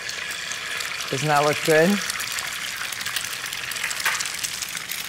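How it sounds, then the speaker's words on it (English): An egg fries in bacon grease in a pan alongside bacon, giving a constant soft crackling sizzle beneath a woman's brief spoken remark. "we're going to fry the egg right in the bacon grease"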